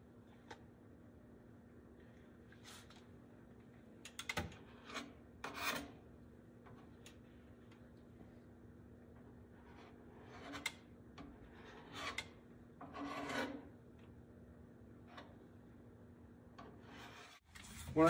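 Hand sanding on a fiberglass boat rudder being repaired with epoxy, quiet intermittent rasping strokes in scattered bursts over a low steady hum, with no talk.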